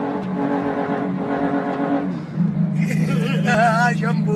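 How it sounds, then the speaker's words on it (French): A combustion-engine car revs with a steady tonal drone that shifts to a lower, rougher pitch halfway through. Higher whining tones rise over it near the end, and the sound is loud and continuous. "Numéro 5, le moteur à combustion."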